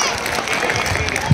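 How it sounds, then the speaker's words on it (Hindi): Audience at a school annual day celebration claps steadily in a dense, even wash of applause, with a voice talking over it throughout. "एक बार तालियां बजाकर जरा बताइए"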